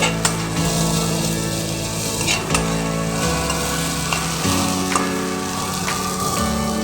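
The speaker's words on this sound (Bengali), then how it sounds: "আমি এখানে সর্ষের তেল দিয়ে সমস্ত সবজিগুলোকে আদার সঙ্গে ভালো করে ভেজে নিয়েছি।" Mixed vegetables frying with ginger in mustard oil for a mug dal dish crackle in a continuous, close sizzle with occasional sharp pops, over a steady tonal background and no talking.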